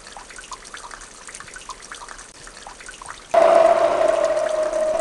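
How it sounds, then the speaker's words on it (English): Water spraying from a hose onto flowers in a garden, starting suddenly partway through as a steady hissing rush that continues loud and close to the end. "Water the flowers."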